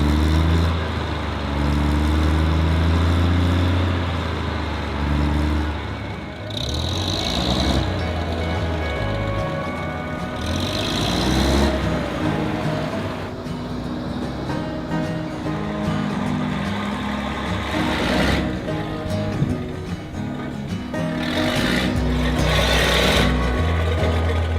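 Small old Wheel Horse garden tractor engines start and run loudly and steadily, a rough close mechanical chatter that dips and surges several times, with occasional sharp metallic bursts and no talk.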